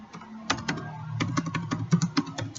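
An SQL query typed on a computer keyboard: a quiet, irregular run of close key clicks and taps, with no talking.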